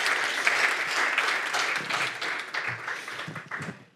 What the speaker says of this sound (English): I'll keep the applause going